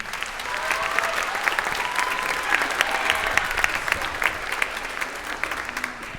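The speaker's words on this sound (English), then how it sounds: "So if you can give them a round of applause again" Sustained applause from a concert audience at a school spring orchestra concert, steady dense clapping throughout with no break, moderately close and fairly loud.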